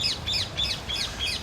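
Parrots in Tenerife give a rapid series of five shrill, rhythmic calls close by, loud and with no other sound over them.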